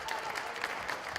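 Basketball crowd in a women's college gym applauding as seniors leave the court, a brief patter of scattered, moderately distant claps.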